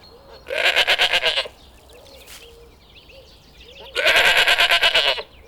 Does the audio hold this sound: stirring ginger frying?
no